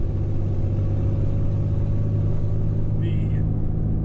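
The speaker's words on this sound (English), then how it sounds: "the engine sound, like I guess the loudest part of the exhaust right now, sounds like it's right underneath me" Ford Ranger engine and exhaust droning steadily while driving with a five-speed manual, a loud low rumble that stays constant and close throughout, as if right underneath the cabin.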